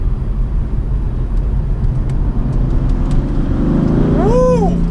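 A BMW M4 sports car driving hard through corners, its engine a loud steady roar heard from inside the cabin, rising in pitch as it accelerates toward the end.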